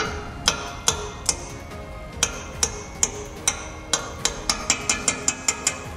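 Metal ratchet whacking a Baja Designs LED fog light on a Jeep JL: a series of sharp, close metallic knocks, sparse at first and then quickening into a rapid run of strikes, with no talk.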